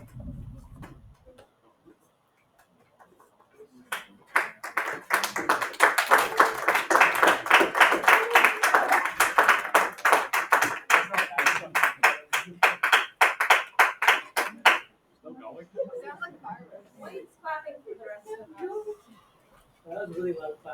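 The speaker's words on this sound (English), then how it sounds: "That was really loud clap." A rapid, steady run of loud hand claps lasting about ten seconds, with brief voices before and after the clapping.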